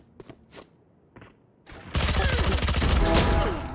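Gunfire in the Valorant shooter game, a few sharp isolated shots up front followed by a dense, loud burst of rapid fire that sustains to the end.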